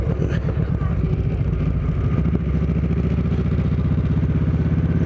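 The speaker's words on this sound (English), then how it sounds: "now that this bike is warmed up, you know, you still get a lot of the soul of the motorcycle coming through" A Kawasaki Vulcan Vaquero, a big cruiser motorcycle, rides at speed with its engine rumbling steadily and loudly throughout, with a deep, even low-end pulse and a brief rise in intensity around the middle.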